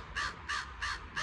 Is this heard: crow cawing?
yes